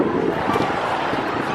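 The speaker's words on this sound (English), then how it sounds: "I know it's very windy, very windy." Strong wind buffets the microphone on a bridge during a Sunday evening walk in Angeles City, Philippines, a steady, loud, rumbling roar that fills the whole moment with no pauses and no talk.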